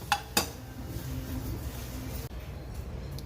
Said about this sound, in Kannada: ಇವಾಗ ಕರಿಬೇವು ಹಾಕ್ತಾ ಇದ್ದೀನಿ.